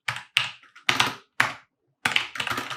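Logitech G413 Carbon keyboard keys typed in quick bursts, a handful of crisp clacks and taps close to the mic, separated by short pauses, with no voices.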